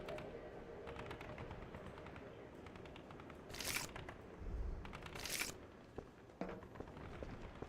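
Faint, scattered rifle shots and clattering in the cyberpunk shooter game E.Y.E Divine Cybermancy, with two brighter bursts and a few sharp cracks over a low hum.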